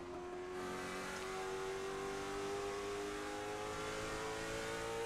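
A race car engine in a sim racing league oval race revs hard and steadily for the whole stretch, its pitch slowly climbing as the driver pushes to pass a lapped car, loud and close with no voices.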